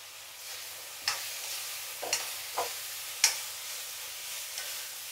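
Okra tipped into frying masala in a pan and stirred, a soft steady sizzle broken by several scattered spatula scrapes and taps, fairly quiet and close.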